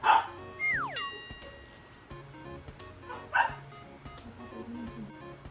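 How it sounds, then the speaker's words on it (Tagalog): A pet dog gives two loud, sharp barks a few seconds apart over a quiet indoor background, with a short sliding electronic boing between them. "ang ingay na aso namin"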